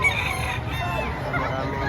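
Roosters crow and chickens cluck at the busy Padre Garcia poultry market in Batangas, overlapping calls close by amid a constant murmur of crowd noise.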